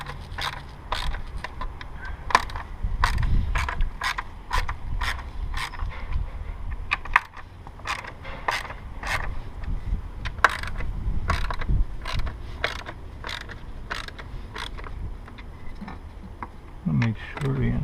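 A ratchet clicks in quick repeated bursts while loosening fasteners on a Dodge Charger 2.7L engine during a spark plug change, the sharp close ticks running steadily throughout alongside faint background noise.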